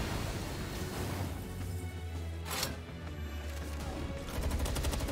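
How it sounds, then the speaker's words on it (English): Gunshots in the creature-survival game Palworld, a steady loud volley of rapid fire with a sharp burst midway and a rhythmic automatic stutter toward the end. "Fire a couple of shots off."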